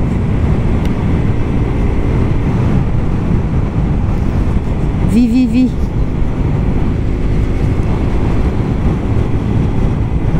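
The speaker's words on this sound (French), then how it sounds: "C'est quand même bien agréable d'avoir une petite moto, de pouvoir se balader." A small motorcycle rides along outdoors, its engine drone blending into a loud, steady wind roar over the rider's helmet microphone, with a brief voice partway through.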